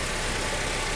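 A Mercedes W123 230E engine idles steadily around 950 rpm after a fuel distributor repair, a close, dense, even mechanical hum with no voices.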